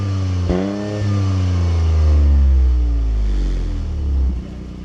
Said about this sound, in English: Just listen to how the triple exhaust lets the 3-cylinders sing.